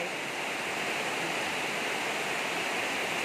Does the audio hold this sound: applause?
no